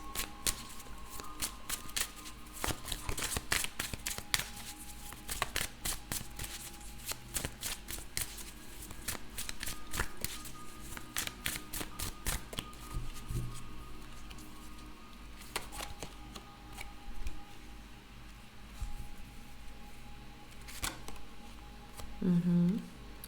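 Tarot cards are shuffled close up in repeated crisp riffling bursts, with quieter card handling between them and a voice speaking softly at times.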